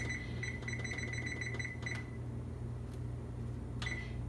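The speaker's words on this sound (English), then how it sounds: "I'm going to set my timer for 15 minutes" Someone sets a kitchen timer for 15 minutes: a quick run of short, bright beeps as the buttons are pressed, a pause, then one more beep, all close over a constant kitchen hum.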